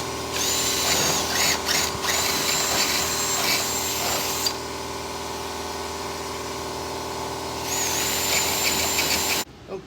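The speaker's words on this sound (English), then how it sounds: "we'll drill this, see if we can lock it down" A power drill bores into a pedal car part in two long, loud whining runs, spinning down to a lower idle hum in between before cutting off abruptly at the end.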